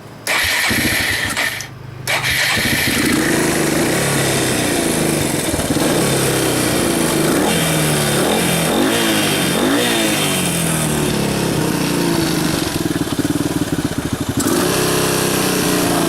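A 1996 Suzuki DR200S motorcycle engine cranks and catches, then settles into a loud, close, continuous running note with some revving, no talk over it.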